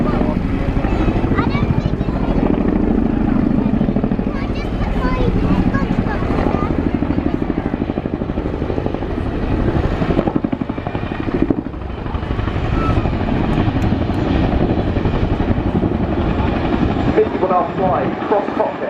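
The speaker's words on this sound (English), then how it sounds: "the aircraft is about to complete what we believe to be one of our most impressive frontline manoeuvres, the nose-down quick stop" A military helicopter at the RIAT airshow doing a nose-down quick stop, its rotor thumping in a loud, rapid, steady beat with a deep engine roar, close overhead, while a commentator talks over it.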